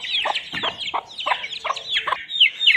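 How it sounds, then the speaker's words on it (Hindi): Aseel chickens and their small chicks cluck and chirp in a quick, irregular series of calls close by, with short squawks among the higher peeping of the chicks. "अभी हम मिलते हैं अपने छोटे से चिक्स के साथ।"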